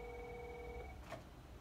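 Telephone ringing during a test call on an Avaya phone system, a steady tonal ring held for under a second over background hum, followed by a brief faint blip.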